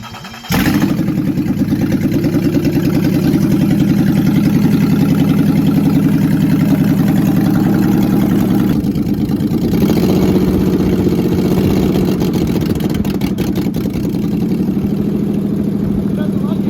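1988 Toyota pickup with a swapped-in 3.4 engine cranks briefly and catches, then runs at a loud, steady idle close by, with the pitch shifting slightly partway through.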